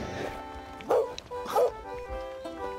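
A dog in the pirate video game Sea of Thieves gives a couple of short, bright yips or barks, with harmonic game music running underneath and no talk over the sounds.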